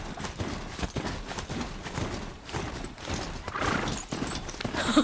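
Robotic Strider mount in Horizon Zero Dawn galloping, a rapid rhythmic clatter of hoofbeats, close and steady over a rumbling background, with no talk.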